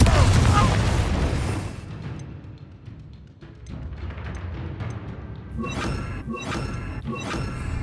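Spell explosions in the Hogwarts Legacy video game: a heavy boom rumbles at the start and fades, then sharper bursts and thumps follow, mixed with shouting voices.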